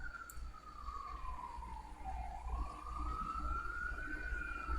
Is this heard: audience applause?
no